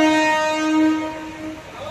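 A local train sounds a long, loud, steady horn at close range, with a harsh, sustained tone holding for about two seconds while the crowded service passes.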